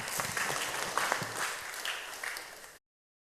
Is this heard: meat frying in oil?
no